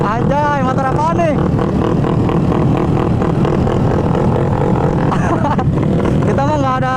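A modified Yamaha Mio motorcycle engine revving loud and close, a steady roar with rising and falling pitch throughout, while people talk over it.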